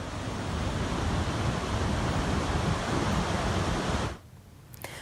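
Floodwater from overflowing rivers and streams in Madhya Pradesh rushes in a loud, dense, continuous roar that cuts off abruptly near the end.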